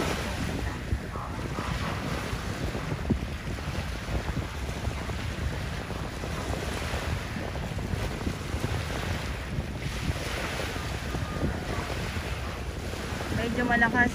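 Strong wind buffets the microphone while choppy sea waves wash steadily at Dolomite Beach on Manila Bay, a continuous rough roar with no clear breaks.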